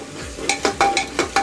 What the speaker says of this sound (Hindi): बस अब मसाले को हल्का हमको भून लेना है